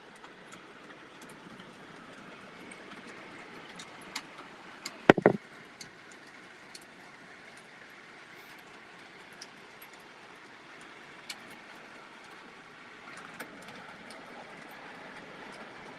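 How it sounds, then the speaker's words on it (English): A steady, distant rumble of a train rolling past, with faint rhythmic rail clatter and one sharp clank midway. "Are those trains is it loud coming through there?"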